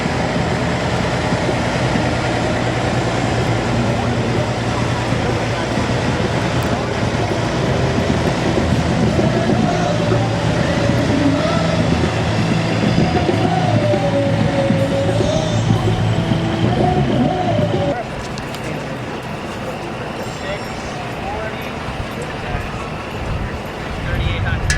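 Go Fast jet pack engine roaring loud and steady as the throttle is cracked back open, a continuous rushing drone that drops slightly in level near the end, with voices talking over it.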